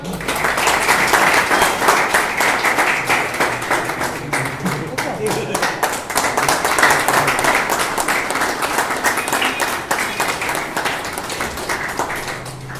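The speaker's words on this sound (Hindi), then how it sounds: "जोरदार तालियां।" Loud, sustained applause from an audience at a local felicitation ceremony, dense clapping filling the whole stretch with steady intensity and some crowd murmur mixed in.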